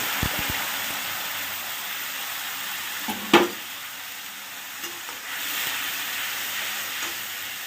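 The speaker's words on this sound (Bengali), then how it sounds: "গোটা জিরে ফোড়ন দিয়ে দিলাম" Whole cumin seeds sizzling in hot oil during tempering, a steady soft hiss with a brief sharper spatter and clink near the middle, no talking.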